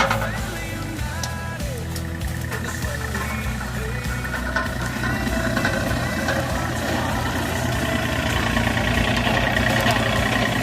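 A tractor engine runs steadily while clearing wet forest land, a continuous heavy, throbbing drone with faint scraping and rustling on top. It grows slightly louder toward the end.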